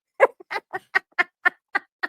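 Short, evenly spaced squeaky whimpers from a Skeksis puppet creature in the 1982 fantasy film The Dark Crystal, eight nasal cries about a quarter second apart, close and clear with no other sound.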